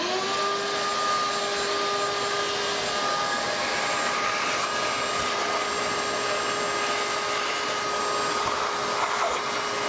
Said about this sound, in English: get her vacuumed